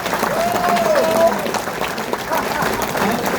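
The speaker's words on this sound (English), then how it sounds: "If we could have a round of applause for the" A banquet audience at a wrestling hall of fame chapter dinner claps in a broad, steady wash, moderately loud, while a voice carries faintly over the applause.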